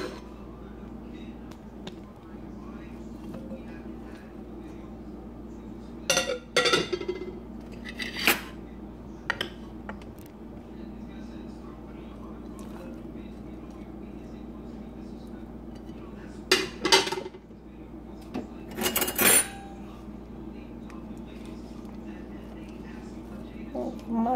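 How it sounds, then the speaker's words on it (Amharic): Salad turned out of a bowl onto a large plate, giving a few brief clinks and scrapes of dishware in short clusters against a quiet room. "ሳህን ላይ እንገለብጠዋለን።"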